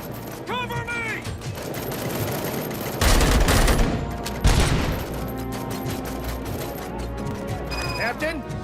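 Sustained covering gunfire in the video game Robocop Rogue City: rapid automatic bursts and loud volleys, with two heavy blasts midway, mixed with game effects and shouting voices.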